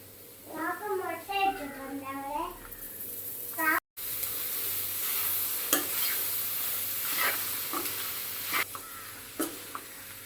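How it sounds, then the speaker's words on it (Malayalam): Clams sizzling and frying in a thick masala, with stirring scrapes; a voice is heard briefly at the start, then steady frying continues. "അതിന് നമുക്ക് ഈ കക്ക ഇറച്ചി ഇട്ട് ഇറക്കാം"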